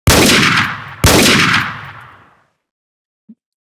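Two loud, close gunshots fired at a statue in a video game, each with a booming tail that fades over about a second, followed by silence and a tiny faint knock.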